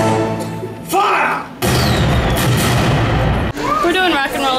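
A loud portside cannon blast roars out in a theme-park attraction, a sustained boom lasting about two seconds between bursts of excited voices.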